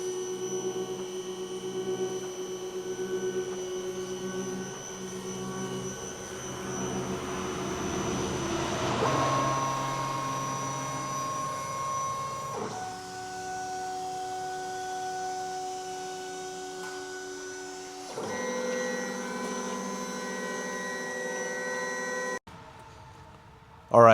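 A plotter-style cutting machine slicing window tint film for a Jeep Grand Cherokee, giving a sustained motorized whine and hum whose pitch shifts in several distinct stages as the blade travels, ending abruptly.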